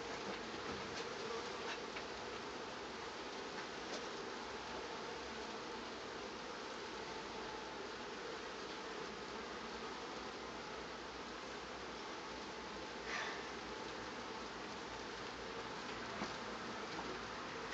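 Honeybees fan and buzz at a beehive in a dense, continuous hum with a steady drone, fairly faint and unbroken, with no voices.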